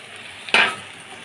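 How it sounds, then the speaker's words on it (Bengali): Water splashes into a hot pan of frying tengra fish curry with potato and bitter gourd, setting off one sudden loud burst of sizzle that fades over a fraction of a second. "এখন আমি দিয়ে দেবো ঝোলের জন্য পরিমাণ মতো জল।"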